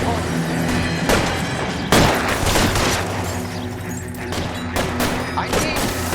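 Gunfire crackles in the crime video game L.A. Noire, with rapid shots and heavy booms during a shootout, loud and close, while voices shout over the fighting.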